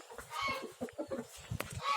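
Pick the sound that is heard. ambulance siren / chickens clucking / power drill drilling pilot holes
chickens clucking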